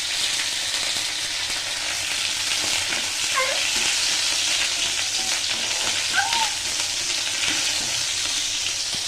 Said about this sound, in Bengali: এবার এই অয়েলটার মধ্যে দেব একটু কাঁচা লঙ্কা